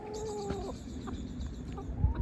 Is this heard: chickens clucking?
yes